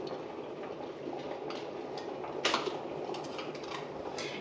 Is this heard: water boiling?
yes